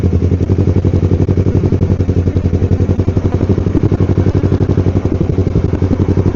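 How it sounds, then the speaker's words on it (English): A motorcycle engine runs rough and bogs with the clutch not engaging, a loud, close, rapid chugging clatter that stays even throughout. "clutch isn't engaging because the engine's bogging"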